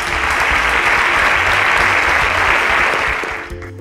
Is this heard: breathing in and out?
no